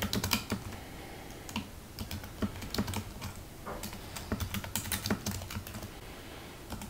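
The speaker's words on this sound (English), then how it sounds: "So now I'm just going to start typing." Rapid, uneven keystrokes on a computer keyboard, close and fairly quiet, tapping steadily for several seconds with brief pauses and no talking.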